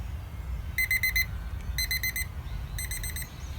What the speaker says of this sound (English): That's my timer gone.